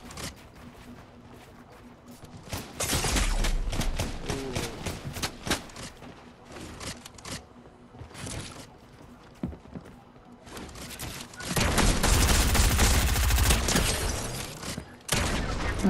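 Video game gunfire in a team shooter match, with rapid bursts and sustained volleys of shots loud and close, in two long heavy stretches separated by scattered single shots, with faint voices underneath.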